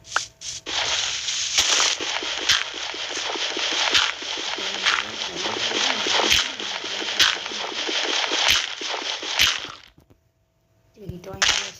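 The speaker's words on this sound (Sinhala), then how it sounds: "ඔයා මෙන්න මේ මැදින් වතුර මේ විදිහට හදාගන්න." Water placed in the game Minecraft produces a loud, continuous rushing splash with crackly bursts that runs for about ten seconds, cuts to near silence, then briefly resumes.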